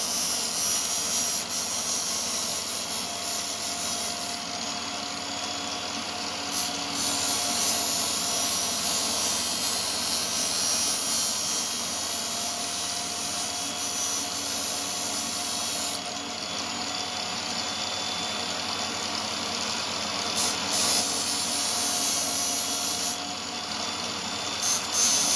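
A machete blade ground along its edge on a powered sharpening machine, a continuous loud whirring grind with brief shifts in tone as the blade moves, no talk.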